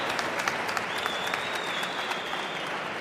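Applause from the crowd at a professional squash match fills the clip, a steady, moderately distant wash of clapping lasting a few seconds with a faint whistle over it.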